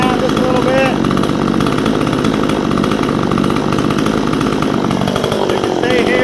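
A Vevor 62cc chainsaw engine idles steadily up close, a buzzing two-stroke drone holding an even pitch throughout with no break.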